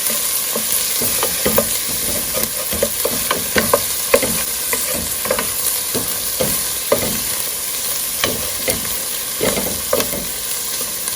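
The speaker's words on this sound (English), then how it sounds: "I'm just gonna saute the onions in the butter until they start to sweat or become a little translucent." Onions sauté in butter in a pan with a continuous bright sizzle, punctuated by frequent rhythmic scrapes and taps of a spoon stirring, close and fairly loud.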